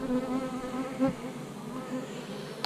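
Honeybees buzz around an opened hive colony during an inspection, a close, continuous droning hum with individual bees passing near and away, no talk.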